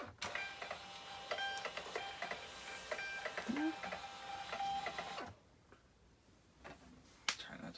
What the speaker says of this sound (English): man, a label printer is great